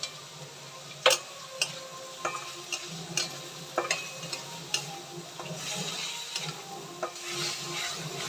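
Washed Gobindobhog rice stirred and fried in ghee in a pan: irregular close clicks and scrapes of a spoon against the pan over a soft, steady sizzle.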